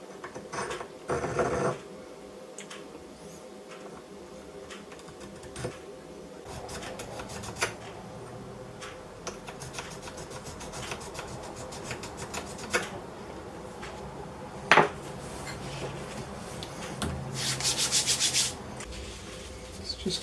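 A rifle bolt shoulder from a Ruger Precision Rimfire is worked against an oiled sharpening stone, making repeated rasping strokes that are quiet and close, with a few louder scrapes and clicks.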